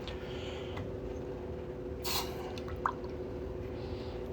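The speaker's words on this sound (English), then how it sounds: "Cool that off in some water." A hot silver coin ring made from an Indian Head quarter-ounce coin is quenched in water, giving a short hissing splash over a steady mechanical hum, followed by a small drip-like plink.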